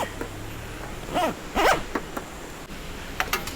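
Zipper on a Thule Tepui Kukenam 3 roof top tent pulled in a few short, quick strokes close by, separated by brief pauses and light handling noise.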